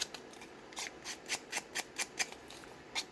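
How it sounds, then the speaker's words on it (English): Scissors scraping along paper edges to distress them for a crafted folio, a series of quick rasping strokes in a loose rhythm, close and soft with no talking. "I'm going to distress the edges with my scissors."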